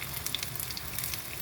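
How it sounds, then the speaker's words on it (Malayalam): Chicken frying in a pan, a dense continuous sizzle with scattered crackles and pops, heard close and steady without any talking. "ഏട്ടൻ നല്ല ഫ്രൈ ചെയ്തുകൊണ്ടിരിക്കുകയാണ്"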